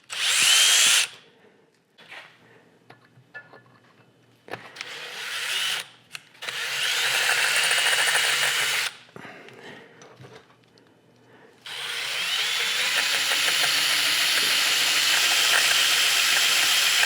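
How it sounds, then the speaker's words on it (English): A power drill with left-handed bits bores into a metal LS engine block during thread repair, its whine coming in several bursts of varying length separated by quiet gaps, with a long steady run at the end. "Let's see how they work when you drill it the right way."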